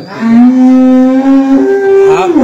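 A single loud, close cow moo holds one long, steady tone for about two seconds and rises in pitch toward the end, with no talk over it.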